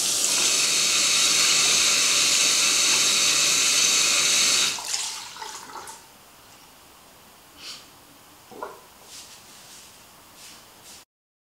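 Lukewarm tap water runs in a strong steady stream for several seconds, then shuts off, leaving faint drips and small handling sounds nearby.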